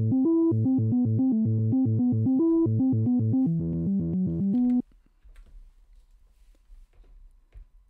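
A synthesizer in Logic plays a fast repeating arpeggio of bright, evenly spaced notes for a few seconds, then stops, leaving faint room noise.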